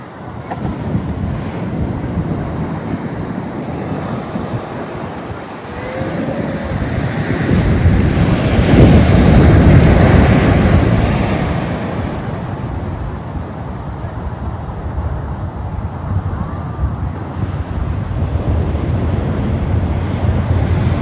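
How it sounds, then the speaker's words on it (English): Ocean surf at high tide surging in a steady wash of rumbling water, swelling louder in the middle and easing off, with wind buffeting the microphone throughout. "when I say that the tide is high, I mean that the tide is pretty high, and I'll show you right now"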